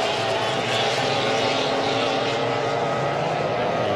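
An F1 hydroplane racing boat engine screams continuously at full throttle during a race, with a loud, steady, roaring drone that never lets up.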